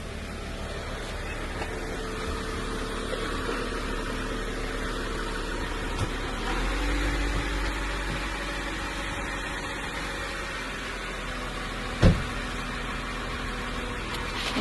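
A 2001 Mercedes E320 idles and is driven slowly off ramps, a steady close engine hum with a brief rise in rumble midway and a single sharp knock near the end.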